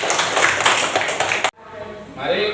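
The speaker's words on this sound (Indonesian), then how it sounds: "Tepuk tangan." Children in a primary school classroom clap their hands together in a brief, busy burst that stops abruptly, followed by quieter room sound with a voice speaking.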